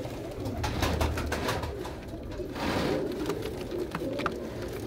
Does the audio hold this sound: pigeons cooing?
yes